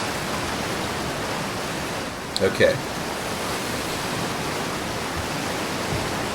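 Steady broadband rushing of a waterfall in the video game Outer Wilds, a constant even roar throughout with a brief voice heard partway through.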